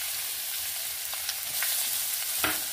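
Mustard seeds, chillies, garlic and ginger frying in oil in a pan, a steady soft sizzle with a few brief crackles and pops, close by, with no talking.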